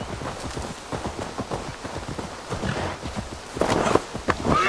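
A horse's hooves clip-clop at a steady gait in Assassin's Creed Valhalla, close and fairly quiet, with rustling and a brief louder swell of movement near the end.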